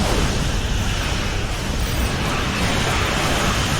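Starship weapons fire and explosions during a space battle in Star Trek Online, heard as a continuous loud roaring blast of broadband rumble with no pauses.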